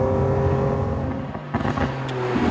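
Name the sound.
Lamborghini Aventador S engine revving to 8500 rpm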